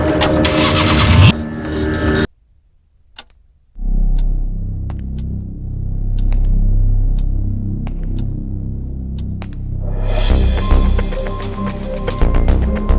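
A car engine cranks over and catches on an urban street, settling into a steady close rumbling idle after a short silence, then revving up near the end amid busy background sound.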